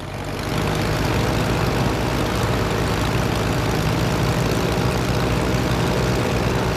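A simulated Piper aircraft engine drones loud and steady as power is eased up in the Prepar3d flight simulator, a constant propeller hum rising in at the start and holding with no talk over it.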